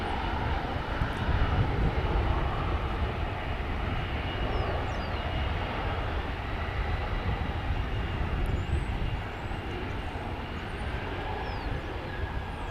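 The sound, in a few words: Airbus A321 aircraft at DFW airport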